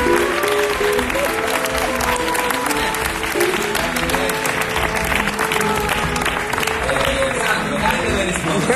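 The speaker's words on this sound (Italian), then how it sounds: "Un applauso a" Studio audience applauding during an off-air blackout of an Italian live TV show, a dense, steady roar of clapping filling the room, with voices mixed in underneath.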